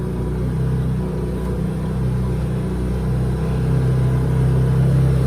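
A 2020 Can-Am XMR ATV with its differential lock engaged climbs a small snowy hill, its engine holding a steady, close mid-pitched drone that swells slightly toward the end, with no talking.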